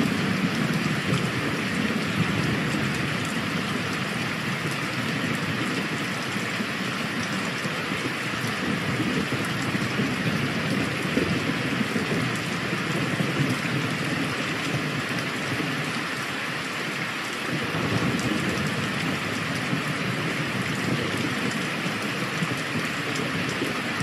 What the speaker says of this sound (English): This sound file consists of rain and lightning sounds.